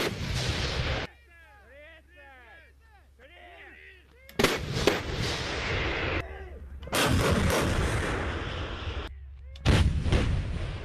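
Cannon fire, heard in loud booming blasts separated by quieter stretches, the first cutting off abruptly, with sharp chirping bird-like calls in the gaps and a voice briefly present.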